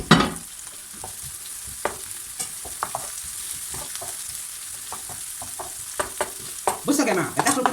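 Chopped leeks sizzle steadily in a pan while a utensil stirs and scrapes them in repeated knocks, close and fairly loud, with a brief voice at the end.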